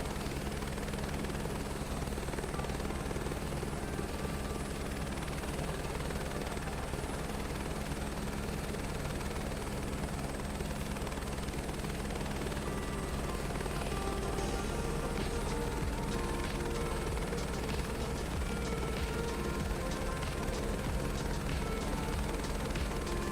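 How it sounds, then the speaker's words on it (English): Helicopter flying over the Grand Canyon in Microsoft Flight Simulator 2024, a steady close rotor thump and turbine whine droning evenly from start to finish with no talk. "Did a really good job with helicopter sounds."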